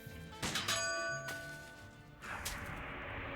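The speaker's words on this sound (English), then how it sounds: "Maybe I need to, like, shoot the bell." A bell in the Sam & Max Beyond Time and Space video game is struck by a gunshot and clangs, its metallic ring sustaining and decaying, then a second sharp hit follows; no talking.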